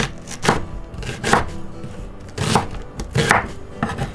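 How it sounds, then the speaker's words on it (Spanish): An onion is chopped with a knife on a board in five firm, evenly spaced strokes about a second apart, close and clear with nothing else heard. "Vamos a cortar la cebolla."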